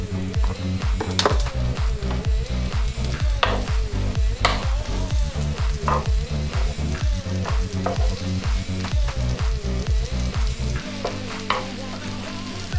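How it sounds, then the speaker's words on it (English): Chopped mushrooms frying in a pan for a homemade keto meatloaf, a loud, steady sizzle with a rhythmic scraping of the spatula stirring them, close up and without speech. "we're just going to add in our chopped mushrooms"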